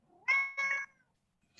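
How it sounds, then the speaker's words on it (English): A pet cat meows twice in quick succession, close and clear, each call drawn out and rising, followed by silence and a brief soft noise at the end. "That's my cat."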